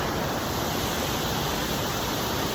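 Mountain creek water rushing steadily along a hiking trail, a close, dense, continuous broadband hiss with no pauses or voices.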